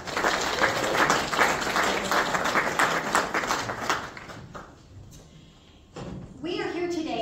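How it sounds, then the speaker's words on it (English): A city council candidate forum audience applauds briefly, with the clapping steady for about four seconds before dying away. A few knocks and a speaking voice follow. "So round of applause for Big Cabbage Radio."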